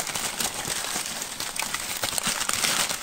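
Newspaper packing paper crumpled and rustled while a parcel of vintage items is unboxed, a close, continuous crinkling with sharper crackles throughout.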